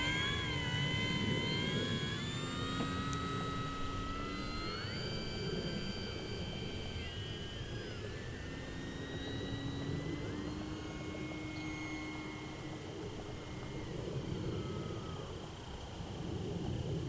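An FMS Maule 1500mm electric RC bush plane on a 3S battery flying overhead, its propeller and motor whine drifting up and down in pitch as it passes, continuous and moderately distant, no talking.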